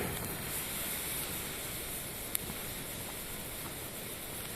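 Gunpowder poured from old, badly rotted Second World War cartridges burns in a forest with a steady, even hiss, close and continuous throughout.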